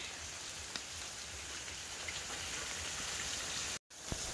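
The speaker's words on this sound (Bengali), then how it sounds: "ঝিরঝির করে কিন্তু বৃষ্টি শুরু হয়ে গেছে" Light drizzling rain patters outdoors as a constant soft hiss with scattered faint drop ticks, broken by a brief silent gap near the end; no one speaks.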